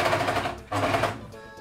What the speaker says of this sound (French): vous passez à la surjeteuse et à la couture